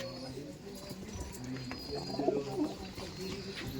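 Released homing pigeons coo in soft, repeated low notes near the listener, with a brief louder burst in the middle, over faint background noise and murmured talk.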